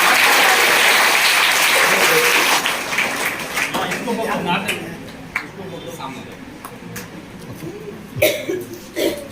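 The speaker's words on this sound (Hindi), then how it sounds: "जोरदार तालियों से इनका।" An audience at a school student-honouring ceremony claps for an honoured schoolgirl, loud and dense at first, then thinning into scattered claps, coughs and murmurs before a brief renewed burst near the end.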